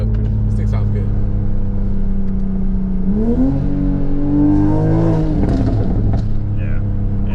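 A tuned 2020 Toyota GR Supra with a downpipe and aftermarket exhaust revs loudly up close, the engine note climbing and falling through a couple of sustained blips over a steady idle.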